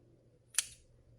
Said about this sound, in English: where it loops around, we're just going to cut those